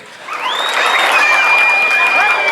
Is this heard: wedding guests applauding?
yes